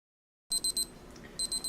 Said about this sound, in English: That's my timer saying this has been sterilizing for about a half hour.